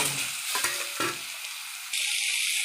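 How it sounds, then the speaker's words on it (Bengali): Pointed gourd pieces fry in hot oil in a wok for a Bengali fish curry, a steady close sizzle with soft stirring clatters that swells into a louder, brighter hiss near the end. "পটলগুলোকে ভেজে নেব"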